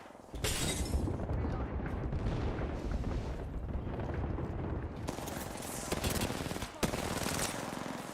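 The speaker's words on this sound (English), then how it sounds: "They're shooting at me." Bursts of gunfire ring out in a ranked match of the battle royale game Apex Legends in the World's Edge map, with rapid automatic shots and sharp impacts continuing densely throughout.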